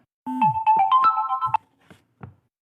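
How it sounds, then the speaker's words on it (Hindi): A phone ringtone plays a loud, bright electronic melody for about a second and a half, then a couple of fainter trailing notes follow, with no talking. "काफी बीच में फोन आ जाने के कारण व्यवधान उत्पन्न हो रहा है"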